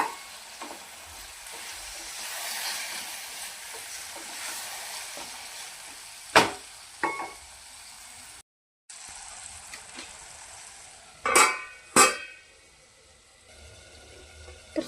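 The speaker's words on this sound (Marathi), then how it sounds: "शिजवलेला राजमा आपण याच्यामध्ये टाकून घेऊया आणि 5 ते 10 मिनिटं बारीक गॅसवर टाकून भाजून घेऊया." Cooked kidney beans (rajma) roasting in a pan on a low flame, a quiet steady sizzle broken by several sharp spoon clanks and scrapes, one brief gap of silence midway, no talking.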